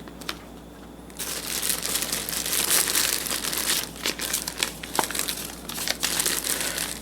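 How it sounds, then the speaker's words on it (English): Paper from a Nikon D3200 camera box crinkles and rustles steadily at close range for several seconds, with no talking. "A little paper here."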